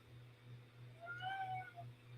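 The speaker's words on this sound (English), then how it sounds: "I've got a cat meowing at me." A house cat gives a single soft, drawn-out meow indoors, faint and distant over a steady low electrical hum.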